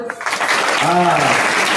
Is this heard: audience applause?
yes